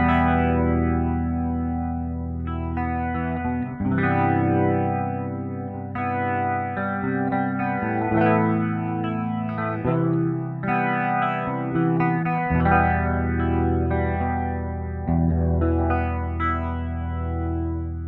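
Electric guitar runs through an AmpliTube 5 British 8000 amp into a Leslie 147 rotary speaker, playing sustained chords and melodic lines with a swirling, wide chorus-like movement, steady and alone with no voices.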